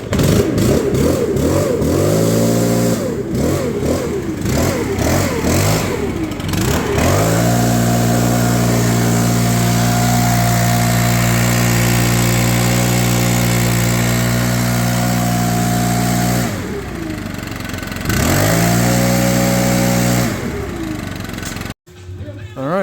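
Stihl BR700 backpack blower with a freshly replaced short block, pulled over several times, firing up and running at a loud, steady, close-up drone before dipping and revving again.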